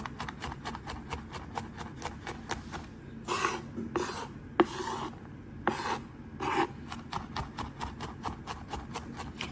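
A knife chops garlic on a cutting board in quick, even rhythmic taps, broken by a few scraping sweeps as the pieces are pushed back together. The sound is close and fairly quiet.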